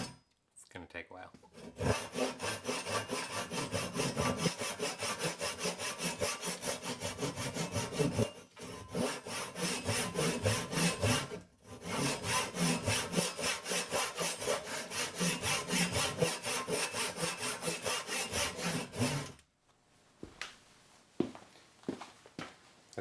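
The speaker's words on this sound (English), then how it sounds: "saw the rest of the way top to bottom" A hand saw rips through wood for a guitar body in long, steady back-and-forth strokes, loud and close, pausing briefly twice before finishing with a few scattered knocks and rubs.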